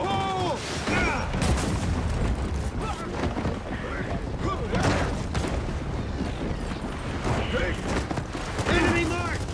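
Gunfire and a grenade blast in Gears of War 4 form a dense, loud, continuous battle din with rapid shots and booming hits. Voices talk over the fighting throughout.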